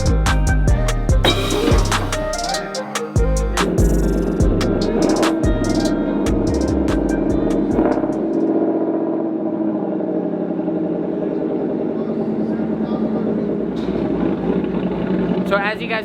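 A 2021 Ford Mustang GT with a ghost cam tune and Borla exhaust, strapped down for a high-speed run up to 180 mph, roars loudly and continuously as it revs and climbs through gears, the engine note shifting steadily.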